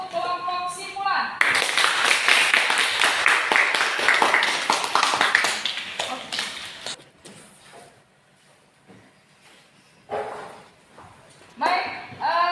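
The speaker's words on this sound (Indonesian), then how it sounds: "silakan berikan aplaus untuk kelompok simpulan" Classroom applause for a student presentation group during a practical teaching exam, several seconds of dense, steady clapping that tapers off, with a voice speaking before and after.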